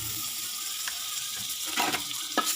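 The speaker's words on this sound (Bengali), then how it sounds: "একটু তেজপাতাটা ভেজে নিলাম" Bay leaves fry in butter in a pan, giving a soft, steady sizzle with a few brief louder crackles and spatters toward the end. No one speaks.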